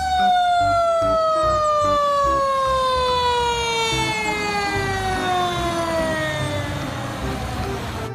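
A toy fire truck siren wails with a slowly descending tone, loud and continuous, over a rumbling background.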